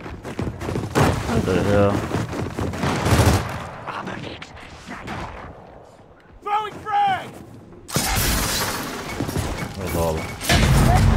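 Gears of War 4 online match gunfire: sustained bursts of automatic shots and rapid fire with heavy impacts, broken by a quieter pause. A player shouts over the firing.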